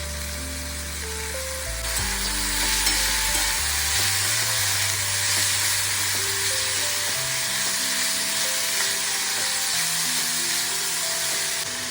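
Kartule (spiny gourd) vegetable sizzles in hot oil in a pan, a dense, steady frying hiss with steam that carries on without pause, close and fairly loud.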